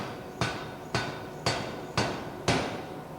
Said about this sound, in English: You take it out of the furnace under the hammer and you get your billet and flatten it down.